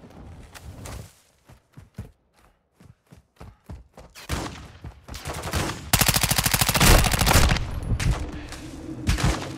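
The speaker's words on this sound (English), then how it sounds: "I'm taking fire!" Gunfire in the video game Call of Duty DMZ: scattered single shots at first, then sustained rapid automatic bursts that grow loud and dense, with no talking.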